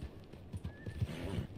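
Horse in the video game Red Dead Redemption 2 clip-clops along with hooves thudding in an uneven rhythm, then lets out a clear, fairly close neigh.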